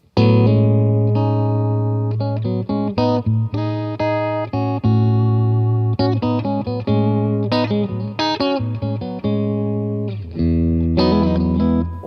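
Electric guitar plays a melodic line of sustained, slightly effected notes over a constant low A drone, close and full, with a short pause near the end.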